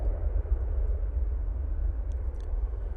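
An Aer Lingus airliner departs for London Heathrow with a steady low engine rumble that stays loud and heavy in the bass throughout, with no voices over it.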